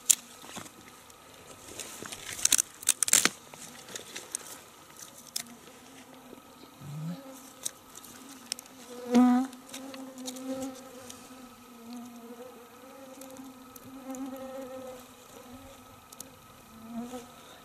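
Mosquitoes whine on and off nearby, one buzzing close past the ear, against a quiet outdoor background with faint crackles from a driftwood campfire by the Khatanga Bay.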